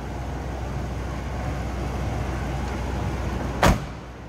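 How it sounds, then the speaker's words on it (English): A 1980 Chevrolet C10 Scottsdale pickup with a 350 V8 and no wild exhaust or cam idles steadily in a low, even rumble, heard from the back of the truck, with a short sharp knock near the end. "Sounds like you'd expect a 350 Chev to sound."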